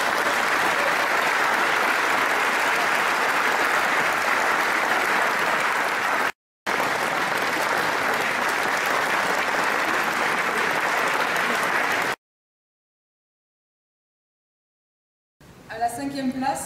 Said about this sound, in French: Je vais vous demander de les applaudir à nouveau